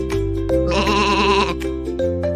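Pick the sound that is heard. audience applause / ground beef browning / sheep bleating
sheep bleating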